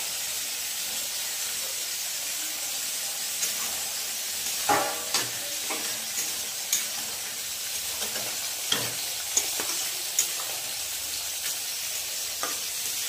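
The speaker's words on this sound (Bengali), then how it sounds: "বেগুন ভাজা নেব।" Eggplant slices fry in hot oil in a pan, a continuous close sizzle and steamy hiss punctuated by several sharp crackles and spatters, with no voices.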